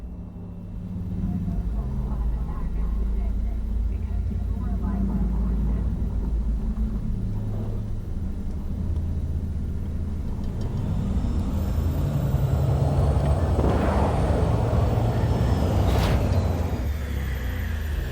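A flying vehicle in Cyberpunk 2077 comes in to land with a deep, continuous engine rumble and whoosh that builds and swells toward the end, loud and close throughout.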